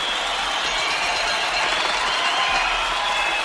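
Boxing arena crowd in Rocky IV before the Apollo Creed–Ivan Drago fight, a continuous wash of applause and clapping mixed with crowd noise, steady and even from start to finish.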